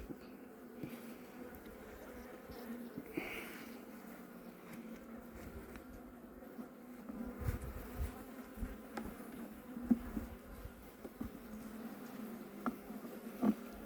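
Honey bees hum during a hive inspection in autumn at high altitude, a low continuous buzz with faint handling knocks and light rustles, fairly quiet and with no talk.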